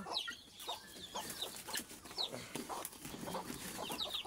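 Several desi chickens cluck and murmur close by on a farm in scattered, overlapping calls over a soft background, with no talking.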